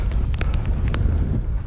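Wind gusts buffet the microphone in a low rumbling rush beside a mountain lake on a cold hike, steady and close for a short moment.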